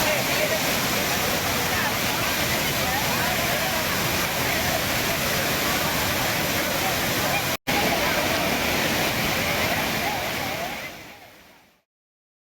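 Thirparappu waterfall in Kanyakumari, crowded with tourists, roars as a loud, steady rush of falling water, broken by one brief dropout before fading away at the end.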